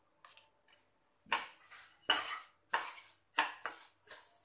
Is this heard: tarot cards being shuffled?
no